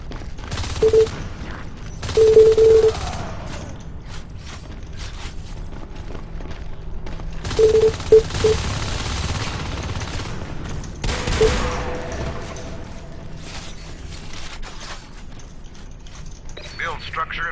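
Bullet cannon fire in a Marine-versus-Marine strategy video game, heard as short mechanical bursts and rattling volleys at intervals over a steady game-sound background, with no talk in between.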